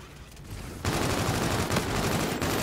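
Sustained rapid automatic gunfire from a Call of Duty match erupts loudly after a brief quieter lead-in, dense bursts continuing steadily to the end.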